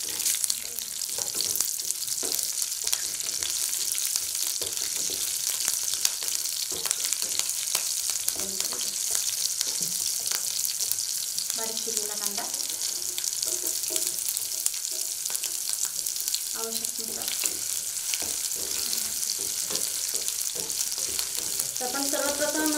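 Chopped onion and green chili fry in hot oil after a cumin-mustard tempering, a loud, steady close sizzle with occasional stirring scrapes and clatter throughout.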